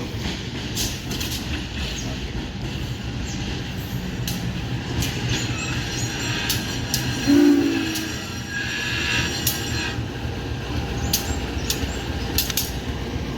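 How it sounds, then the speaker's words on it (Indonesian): The CC 203 01 diesel locomotive in vintage livery is shunting between tracks at a station, giving a steady low rumble with faint metallic squeals and clanks, heard up close with no talk. "Oke, 2301 langsir dari jalur 3 teman-teman."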